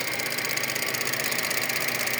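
A running motor hums with a steady mechanical whir and a fast, even ticking rhythm, close and continuous throughout with no voices.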